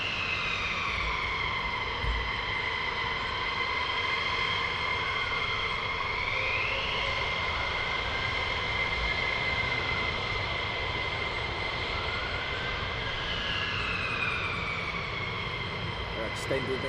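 Military jets taxi at RAF Lakenheath, a steady whining engine drone with shifting tonal pitches that rise and fall as the aircraft move, continuous and fairly loud, with a voice talking over it.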